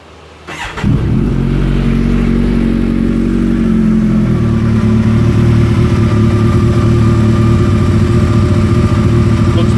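A Kawasaki Ninja ZX14R Special Edition sport bike fires up and its engine revs hard, loud and close, then holds a steady, throaty drone without any talk.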